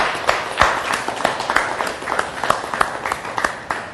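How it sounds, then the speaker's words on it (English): Scattered clapping from a small audience at a talk, with individual handclaps landing irregularly rather than as a dense ovation, moderately close and without speech over it. "Let's take an applause for yourself."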